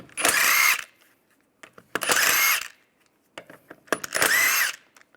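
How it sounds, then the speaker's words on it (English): A power tool spins off lug bolts with a 17mm socket on the wheel of a 1998-2010 Volkswagen Beetle, three loud whirring bursts about a second long each, separated by quiet gaps with small clicks. "Then using the same 17mm, we're going to take off the lug bolts."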